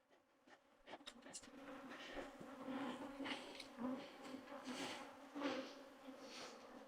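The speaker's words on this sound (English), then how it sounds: "These bees are swarming all over me and they are angry." An angry swarm of bees buzzes all around during a walk across a property while mowing, a dense, continuous drone with individual bees zipping close by, loud and steady throughout.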